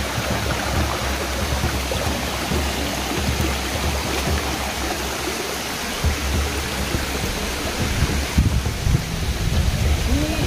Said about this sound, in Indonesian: ketinggian air terjun ini sangat luar biasa sekali tinggi